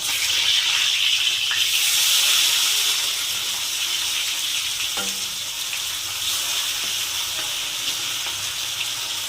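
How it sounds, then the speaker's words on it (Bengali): Pomfret fish fry in hot oil in a pan, producing a continuous, fairly loud sizzling hiss that eases slightly after the first few seconds, with no voices. "মাছগুলো দিয়ে দিয়েছি, এবার ভেজে নেবো লাল লাল করে।"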